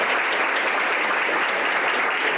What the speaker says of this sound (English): Let's give her a good round of applause.